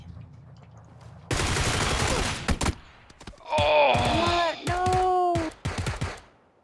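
Video game gunfire erupts in a loud rapid burst of shots, followed by harsh game sounds and tonal groans, with a player's voice talking over the action.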